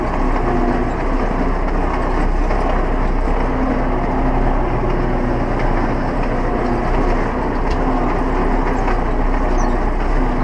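A tractor pulling a rotary harrow through a sunflower field rumbles with a steady, loud low engine drone and rattling machinery, continuous and close with no voices.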